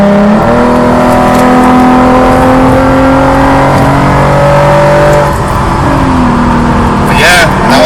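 A Lexus RC350 with an aftermarket exhaust drones loudly through a downshift and rising revs, the engine tone climbing and steadying as someone talks over it.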